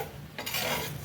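A beetroot uttapam is flipped on an old, thick iron tawa. A short scrape is followed by a soft sizzle, both quiet and close.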